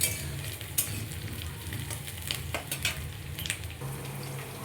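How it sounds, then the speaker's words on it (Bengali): Onions frying lightly in oil in a pan for ghugni, a close steady sizzle broken by occasional spoon scrapes and clinks against the pan. "পেঁয়াজটা আমার হালকা ভাজা হয়ে গেছে"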